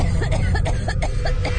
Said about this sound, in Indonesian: terdengar lagi suara batuk itu